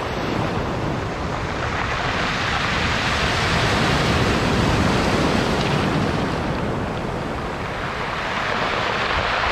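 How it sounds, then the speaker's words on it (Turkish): Black Sea waves wash in and draw back over a pebble beach at Batumi, a loud, continuous broadband roar of surf with wind noise and no voices. "Dalgalar çekilirken çakıl taşlarının çıkardığı sese bayılıyorum ya."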